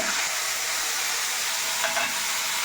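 Bay leaf, dry red chilli and cumin seeds tempering in hot oil for paneer ghugni, giving a steady bright sizzle and hiss throughout with no talk.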